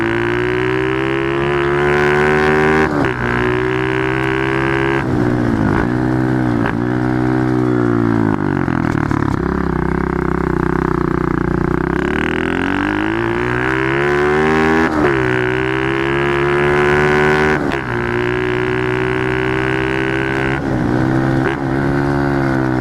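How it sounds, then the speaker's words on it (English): A pit bike motorcycle engine revs hard through the gears, loud and close with wind buffeting, pitch climbing and dropping repeatedly as the rider shifts and accelerates. "that really pushed the engine there, and I don't think it's revved that hard in ages"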